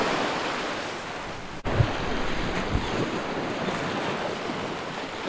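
Surf washes steadily onto an empty beach beside a jetty, a dense continuous roar close to the microphone with gusting wind noise on top, broken once by a brief dropout.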